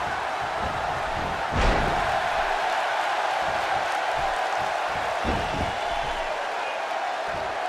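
A large wrestling arena crowd cheers in a loud, continuous roar with a sharp slam-like thump near the start. The crowd noise holds steady throughout.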